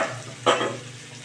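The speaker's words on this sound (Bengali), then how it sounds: "এবারে আমি মিক্সি ধোয়া জলটাই এখানে অ্যাড করে দিচ্ছি" Liquid splashes into a pan of frying spice paste for prawn curry, one short burst of pouring and sizzling that rises sharply, then settles into a low steady hiss alongside stirring.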